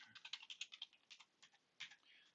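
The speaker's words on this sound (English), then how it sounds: "So I type Eric, semicolon, Fred." Rapid bursts of keystrokes on a computer keyboard, a quick run of clicks, a short pause, then a few more taps, quiet and close with no speech.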